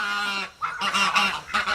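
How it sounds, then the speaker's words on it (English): Geese honking loudly and close by in a backyard, several harsh nasal calls in quick bursts with a brief pause between them. "don't know what the geese are doing back here"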